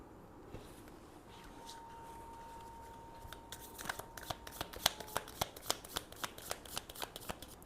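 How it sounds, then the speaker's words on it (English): Tea leaf reading cards riffled and bridged in a quiet room, building into a rapid run of crisp flapping clicks that repeat in quick bursts. "I love the sound when these cards make it, right? When I'm shuffling them."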